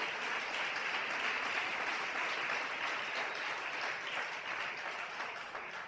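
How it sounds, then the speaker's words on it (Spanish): A church congregation applauds during a sermon on the Holy Spirit, a continuous, even roar of many hands sustained at constant strength, somewhat distant and without speech. "Dele el aplauso al Señor"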